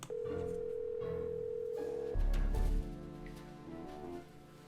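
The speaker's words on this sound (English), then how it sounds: "Guess I'm gonna have to call Tink." A steady phone dial tone sounds in the Nancy Drew game The Haunted Carousel on PC, then gives way to a short low burst and a series of faint electronic ringing tones as the call connects.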